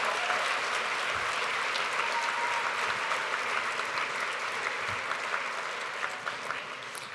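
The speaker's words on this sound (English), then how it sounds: "Could we give them a round of applause?" Audience applause for two council members at an HRC Nashville gala, steady sustained clapping from a large crowd filling the whole stretch at even loudness.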